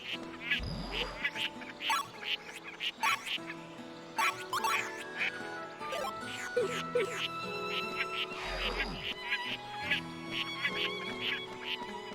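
Fantail ducks quack in the video game Baten Kaitos Origins, several honking calls scattered over a busy background of game sounds and music.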